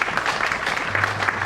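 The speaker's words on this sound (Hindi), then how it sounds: "बजाइए इनके लिए तालियां" Applause from a crowd, steady and fairly loud, sustained clapping throughout with a low hum underneath.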